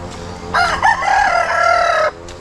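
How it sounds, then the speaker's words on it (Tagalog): A rooster crows once near a chicken coop, a loud close call of about one and a half seconds with a rising start and a long held note, alone with no talk. "kulungan ng manok ni Kenelson."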